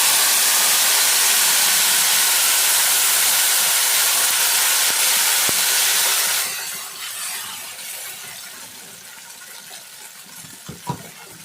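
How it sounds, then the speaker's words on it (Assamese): A spice paste for paneer masala is poured into hot oil and sizzles in a loud, steady hiss, which drops abruptly partway through and settles into a softer sputter with a few faint clinks near the end. "এতিয়া পেষ্টখিনি মই ঢালি দিম।"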